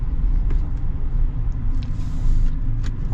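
A 2025 Chevy Silverado 1500 RST with the Duramax inline-six diesel engine runs with a steady, close, low rumble and a faint high whistle above it.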